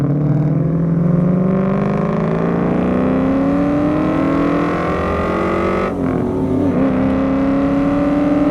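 A 1994 Ford SVT Cobra with a manual gearbox pulls away, its engine droning loud and close as revs climb, dropping briefly at a gear change near the six-second mark before building again.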